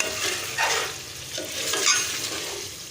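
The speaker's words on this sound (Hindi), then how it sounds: "चिकन को हमने अच्छे से भून लिया।" Chicken being sautéed in a pan for an aloo chicken curry gives a steady sizzle with repeated scraping stirs, close and moderately loud, with no talking.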